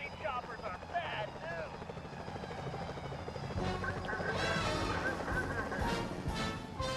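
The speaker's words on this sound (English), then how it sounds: "Security choppers are bad" A security helicopter in the Sly Cooper: Thieves in Time game, a steady whirring rotor drone that grows louder and fuller midway, mixed with game sound effects and a person talking over it.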